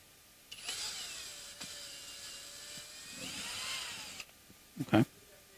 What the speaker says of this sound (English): there's nothing stopping me from using the power tool to remove the screw